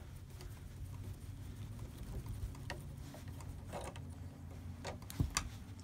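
A 2.5 mm hex driver unscrews a bolt holding the rear bumper on an E-Revo 2.0 RC truck, making faint, close ticking and scraping metal clicks in a quiet room, with one sharper knock toward the end.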